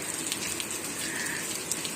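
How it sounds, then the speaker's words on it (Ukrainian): Strong rain falls steadily in an even, continuous hiss with dense pattering on surfaces, near and fairly loud throughout, with no voices. "а тепер вже такий сильний дощ"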